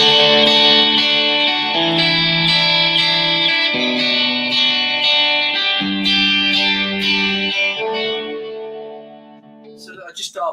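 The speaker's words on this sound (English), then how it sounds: "I've added a nice sort of ping pong delay to get that edge thing going." An electric guitar played through a Blackstar amp with a ping pong delay rings out in sustained distorted chords and notes, with echoing repeats and a reverb tail that fades near the end.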